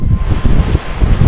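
Strong gusty wind buffets the microphone with low rumbling roar and rustle, continuous and loud throughout.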